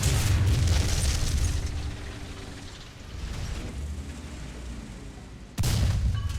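Heavy tank cannon blasts boom in War Thunder ground battles, a deep rumbling shot at the start fading into a long low roll, then another loud sudden blast near the end.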